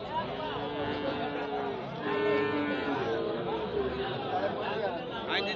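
A pair of Sahiwal bulls stands at a busy rural cattle market in Bangladesh, with cattle lowing amid loud crowd chatter and nearby voices talking over the animals.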